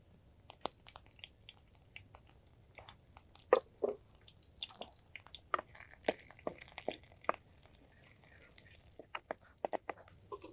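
Vadagam and fenugreek dropped into hot sesame oil in a pan give scattered soft crackles and pops, faint and irregular over a quiet background.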